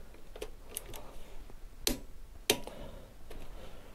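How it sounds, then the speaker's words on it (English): Roadlok XRA 307 Eurosport disc lock clicking into place on a motorcycle front brake disc: two sharp, close clicks about half a second apart, with softer faint ticks and handling noise around them. "Satisfying click."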